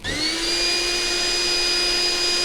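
A handheld lithium-ion vacuum cleaner running from battery power switches on and spins up within a fraction of a second, then holds a loud, steady motor whine with a high-pitched tonal hum, close and uninterrupted.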